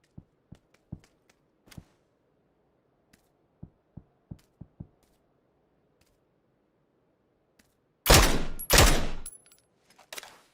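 Gunfire in the Occupy Mars video game: scattered sharp single shots ring out over a quiet background, followed by two loud, sustained bursts of fire near the end.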